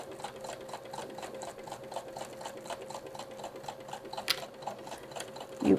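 Home sewing machine back stitching fabric, a steady rapid ticking of the needle running continuously at close range, fairly quiet, with a brief sharper click near the end.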